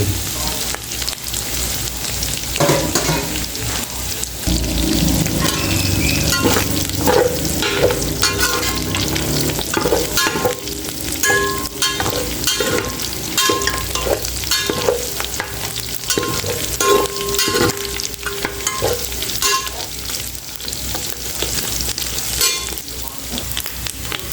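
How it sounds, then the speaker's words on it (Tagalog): Garlic browning in a hot pan, then onion tossed in and sautéed: steady loud sizzling with scraping stir strokes throughout, no talking. "Ito, nagba-brown na yung bawang, lagyan na natin yung bombay."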